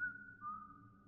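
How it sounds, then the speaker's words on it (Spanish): An intruder in the horror video game Unspoken whistles a short, clear two-note tune, a higher tone sliding down to a lower held one, isolated and moderately loud. "Hay uno por aquí que le mola silbar"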